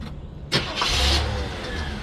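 A Chevrolet Monte Carlo engine cranks over and catches, followed by a rising rev and then a steady idle, recorded close to the car.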